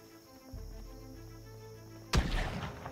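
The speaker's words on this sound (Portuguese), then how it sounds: "A porra! O Léo deu um tiro, mano." One sharp, loud gunshot from Project Z, a zombie video game, bursts out after a low steady background rumble, with its echo trailing off over the final second.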